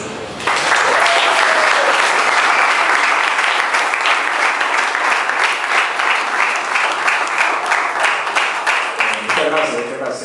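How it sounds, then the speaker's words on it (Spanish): An audience at a clinic-style talk bursts into loud, sustained applause lasting about ten seconds, many hands clapping densely before tapering slightly at the end, with a voice speaking faintly under it. "luego con ustedes con Dula de Bala, que pido un aplauso"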